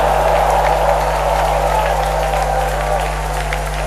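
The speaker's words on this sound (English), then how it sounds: "Somebody stand up and clap and shout." A church congregation claps and shouts throughout, a continuous loud crowd roar layered over a steady low electrical hum and sustained organ or keyboard tones.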